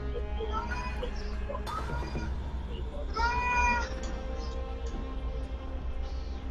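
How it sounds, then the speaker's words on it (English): A pet cat meows repeatedly in a room while people around a tabletop role-playing game table talk, the meows standing out clearly over a steady low hum. "is there anything you can do about your cat?"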